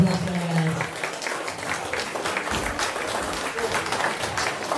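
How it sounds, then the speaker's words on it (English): A crowd applauds the UK and Ireland Under 90 strongman finalists at a 2024 competition, a steady wash of clapping sustained for several seconds with a voice briefly audible underneath. "Massive round of applause for them"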